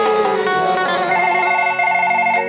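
A telephone rings with a steady repeating electronic tone, loud and close, with layered harmonic pulses continuing without pause and no one talking over it.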